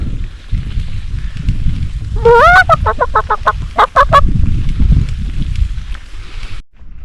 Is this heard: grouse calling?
yes